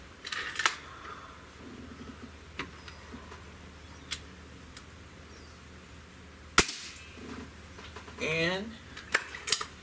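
Dual-barrel Beeman Bison air rifle fires single sharp shots, a few brief cracks spread across the stretch amid quiet background and light handling noise.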